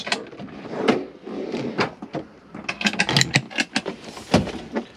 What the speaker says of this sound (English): slide out drawers